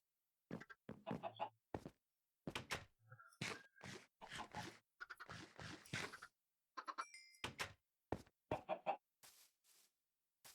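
Chickens cluck in a Minecraft world: a run of short, clipped blocky bursts with brief gaps, fairly close and distinct, mixed with occasional thunk-like game noises and no talking.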